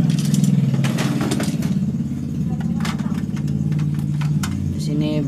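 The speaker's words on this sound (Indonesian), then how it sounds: "Di sini begitu berisik sekali suara sepeda motor." Motorcycle engines idle and rev nearby in a noisy setting, a continuous mid-level drone with a few brief rises, while scattered clicks and handling noises sit over it and a voice speaks briefly near the end.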